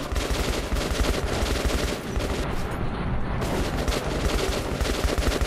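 Dense, continuous automatic gunfire from the post-apocalyptic shooter Metro 2033 Redux, loud and close, with rapid bursts overlapping for the whole stretch.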